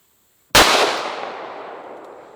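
A single loud pistol shot from a Hi-Point handgun lubricated with canola oil, a sharp close crack after brief silence that rings out and decays over nearly two seconds, with no talking.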